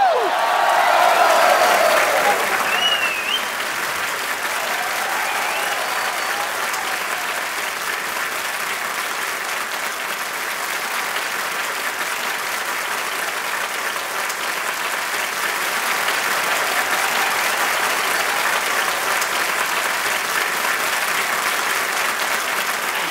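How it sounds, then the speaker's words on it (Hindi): A studio audience at a comedy talk show applauds warmly: loud, dense clapping that swells at the start, then carries on steadily at a slightly lower level for over twenty seconds. "सो जोरदार तालियों के साथ स्वागत कीजिए डॉक्टर मशहूर गुलाटी जी का"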